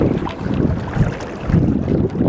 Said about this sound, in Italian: Le onde si sentono sempre più forti, il mare si sente sempre più forte.